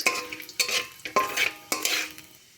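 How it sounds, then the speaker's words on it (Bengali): Dry chillies and panch phoron stirred in hot mustard oil in a pan produce about five distinct close scraping strokes with a bright sizzle behind them, and no talk. "লঙ্কা 5 ফোড়ন একটু নাড়াচাড়া করে নেব।"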